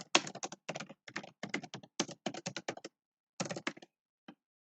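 Quick bursts of crisp clicks from typing on a computer keyboard, close and clear, in rapid clusters with brief pauses between runs and a final lone tap.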